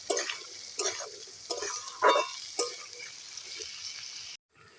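Drumstick stems seasoned with salt and turmeric sizzle in hot oil, with bursts of stirring scrapes repeating every second or so under a steady hiss, close by, then a sudden cut to silence near the end.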